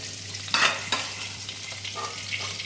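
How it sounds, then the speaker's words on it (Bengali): Cauliflower pieces frying in mustard oil, a continuous sizzle broken by a couple of sharper stirring clatters near the start and softer scrapes later. "প্রথমে ফুলকপিগুলো ভেজে নেব"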